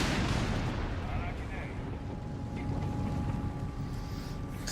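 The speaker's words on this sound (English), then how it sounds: "P4's destroying the mortar pits on the other side." In a Company of Heroes 3 tournament match, a Panzer IV tank shells enemy mortar pits. The battle makes a dense, continuous rumble of gunfire and explosions while commentators talk over it.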